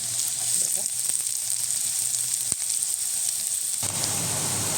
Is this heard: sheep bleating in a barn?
no